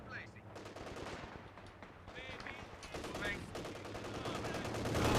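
Rapid machine gun fire in Company of Heroes 2, steady bursts of rattling shots that grow louder toward the end, layered with other battle noise and voices in the game.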